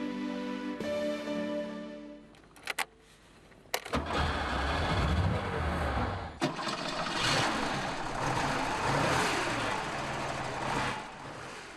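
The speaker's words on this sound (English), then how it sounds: "The air-cooled engine has an irresistible sound, a masterpiece of old-school engineering." An air-cooled sports car engine cranks over with a few sputters, catches, and settles into a loud, rough, rattling idle close by.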